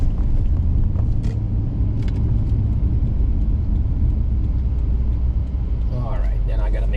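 A 2008 Lexus IS-F driving on the road gives a low, steady engine rumble with road noise throughout, heard from inside the car, while someone talks over it.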